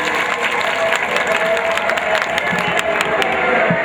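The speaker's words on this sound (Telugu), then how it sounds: "మన సోదరిమణుల్ని మనసారా మనం అభినందిస్తూ మరి వారికి గట్టిగా చప్పట్లు కొట్టాల్సిందిగా కోరుతున్నాను" An outdoor crowd at a Shivaratri festival music night applauds performing sisters, continuous dense clapping mixed with crowd murmur at a loud, even level.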